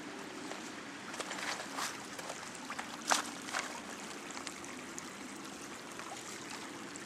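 Water from a hilltop factory runs down a stream in a park, a soft continuous rushing and trickling at moderate distance. Small splashes rise briefly above the flow.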